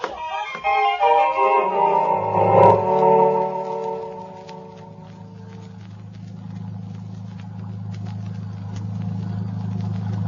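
A low, steady motorboat engine drone rumbles continuously, settling into an even idle after a brief burst of louder, mixed noise at the start.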